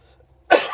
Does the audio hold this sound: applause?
no